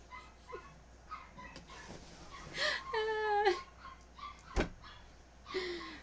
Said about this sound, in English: Alfred's favorite thing in life is to bark at the neighbors